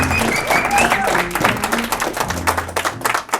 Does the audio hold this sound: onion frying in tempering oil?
no